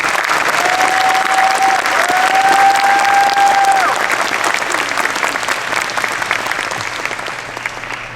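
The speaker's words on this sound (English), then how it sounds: "Let's give the faculty and staff a round of applause." An audience gives sustained applause for faculty and staff at a white coat ceremony, loud, even clapping that holds for several seconds and slowly tapers off, with a faint tone briefly sounding over it.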